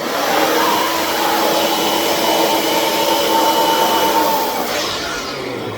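A blower runs steadily and loudly, pushing fibre line through a pipe to a shed, a continuous whooshing roar holding for several seconds before easing slightly at the end.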